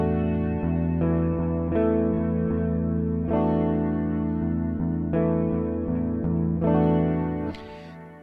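Electric guitar strumming a chord shape rooted on E through effects with chorus and distortion, sustained chords restruck roughly every second and a half, loud and alone with a shimmering, wavering tone.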